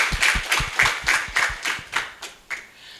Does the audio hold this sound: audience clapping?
yes